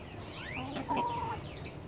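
Backyard chickens cluck and make soft, quavering calls close by at a low, quiet level while being fed leftover pork, with no talking.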